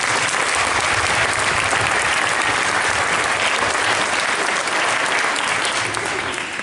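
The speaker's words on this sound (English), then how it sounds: "So if we could give a round of applause to those important people." An audience applauds at a gathering, a dense, loud wash of many hands clapping that holds steady for several seconds with no break.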